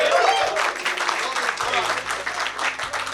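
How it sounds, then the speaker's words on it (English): Audience at a Tamil golfers association awards evening claps and cheers, a dense wash of applause that holds steady throughout, with voices mixed into the crowd noise. "That has been the biggest cheer of the night."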